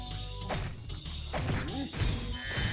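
Objects being smashed in Spyro 3: Year of the Dragon, a series of thumping crash and break impacts scattered across a busy game soundscape with music-like tones.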